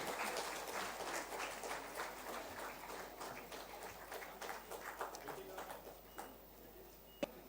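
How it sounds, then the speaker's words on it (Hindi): Steady, faint applause from a crowd at a Jharkhand state sports ceremony where Chief Minister Hemant Soren honours medal-winning athletes. The clapping is continuous and distant, with a few sharper claps near the end. "तालियां हर बार जोरदार होनी चाहिए"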